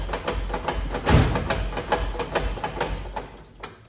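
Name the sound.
clutch noise of a 1969 Chevy C30 truck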